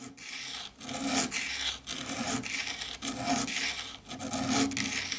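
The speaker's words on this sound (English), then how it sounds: "I'll need to sand the bottom part of the bezels first" Metal bezels for silver rings are rubbed back and forth against an abrasive surface, a steady rasping scrape in repeated strokes with brief pauses, close and fairly loud with no voices.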